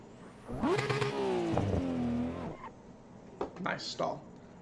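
A Nissan S15 Time Attack car of over 800 horsepower in a Pikes Peak racing game, its engine revving in a loud sustained wail that winds down, then stalls, followed by a few quieter sputters and clunks.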